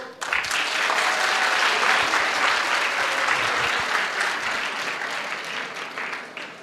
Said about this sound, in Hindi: तो जरा बड़ी सी ताली बजाओ